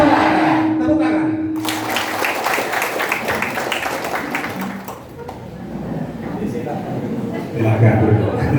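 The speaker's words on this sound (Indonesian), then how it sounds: "Tepuk tangan." A room of Islamic religion teachers in Banyumas claps their hands together at a gathering, a burst of dense clapping that rises after a spoken prompt and trails off, with voices and chatter mixed throughout.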